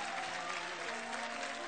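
Studio audience at an X Factor show applauding, a dense steady wash of clapping throughout.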